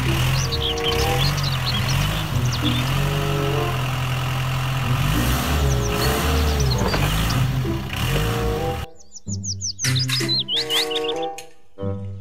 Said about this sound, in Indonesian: Mobil forklift.